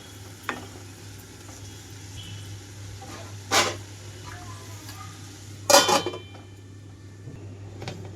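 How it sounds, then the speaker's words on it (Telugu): A lid is set down on a pot of salted brinjal pieces being cooked for a cucumber and red chilli pickle, landing as two short, sharp clatters over a steady background hum. "మూత పెట్టేస్తున్నాను."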